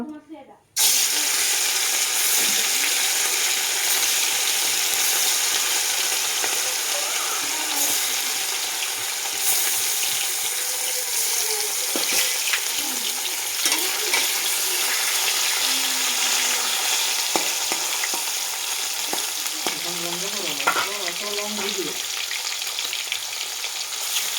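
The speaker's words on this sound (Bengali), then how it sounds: "এখন আমি মাছগুলো ভেজে নিব" Rohu fish frying in hot oil in a wok, a steady loud sizzle running the whole length with occasional stirring scrapes, and a voice briefly heard near the end.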